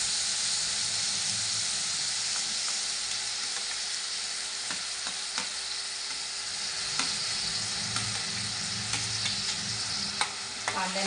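Onion and tomato sauté in a hot pan with a continuous loud sizzle and hiss, broken by scattered clicks and scrapes as the mixture is stirred, close up and with no voices.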